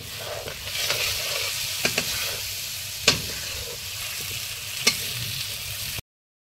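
Tomatoes fry in a pan, giving a constant close sizzle broken by several sharp scrapes and clacks of a stirring utensil, before the sound cuts off abruptly.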